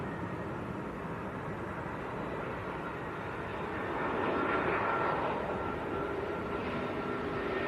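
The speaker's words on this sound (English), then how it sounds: "Now next to land, Iberia, coming in from Madrid, an Airbus A320." An Iberia Airbus A320 arriving from Madrid at Manchester Airport, its broad steady jet roar continuing throughout and swelling slightly louder about halfway as the aircraft passes closest.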